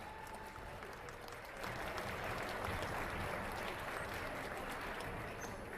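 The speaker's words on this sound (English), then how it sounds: "Now you may clap." Audience applause at a boys high school basketball senior night in a gym, starting moderate and swelling into a loud, sustained wash of clapping from the crowd.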